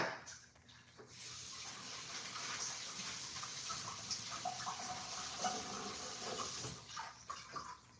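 Chickpeas rinsed in a kitchen under a running tap, a steady broadband hiss of flowing water lasting most of the time, with small clatters as the water briefly stops near the start and end; no talking.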